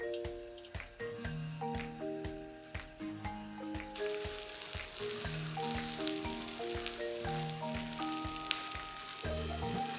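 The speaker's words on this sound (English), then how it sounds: "Fry the cherry tomatoes till the skin blisters." Cherry tomatoes sizzle and fry in a pan, a steady broadband hiss that grows denser partway through and sits beneath prominent background music for the whole stretch.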